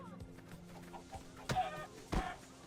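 A chicken in the video game Minecraft Story Mode clucks in a few short, sharp bursts over quiet game background.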